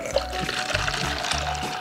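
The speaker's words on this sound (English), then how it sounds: "we're gonna pour in our water into our water clock" Water poured by hand into a homemade water clock, a short splashing, trickling fill heard close up with no one talking.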